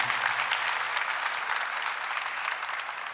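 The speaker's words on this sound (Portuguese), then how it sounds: "Vamos aplaudir as 3 grandes paixões do coração desse homem." A church congregation breaks into applause during a Catholic sermon, a dense roar of clapping hands that starts strong and slowly eases off, broad and even with no talk.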